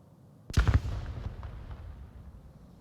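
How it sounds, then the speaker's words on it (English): A sudden gunshot-like burst in the VR shooter Onward, a sharp crack followed by a quick cluster of reports and a decaying rumbling tail, fairly loud and heard alone. "As we see our first shots fired at one another"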